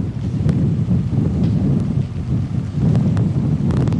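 Strong typhoon wind from Typhoon Lawin in Sta. Ana, Cagayan, roaring and buffeting a microphone without pause, loud and close, with gusts swelling near the end.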